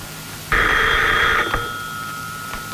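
A telephone gives one loud, sustained ring in a French-dubbed drama scene, then a fainter lingering tone continues over a low background hum. No one speaks.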